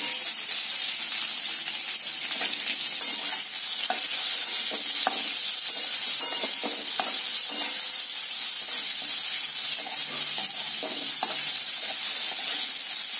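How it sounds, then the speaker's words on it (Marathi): Raw mango pieces sautéing in hot oil for a Maharashtrian kairichi bhaji, a steady close sizzle with occasional stirring clinks and scrapes running through the whole stretch, no talking. "तेलामध्ये थोडा वेळ आपण ही कैरी परतवून घेणार आहोत।"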